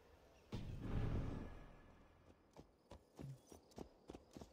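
Horse hooves in Assassin's Creed Valhalla clip-clop in an uneven rhythm after a brief low rumble, a series of soft, close thuds with no talking.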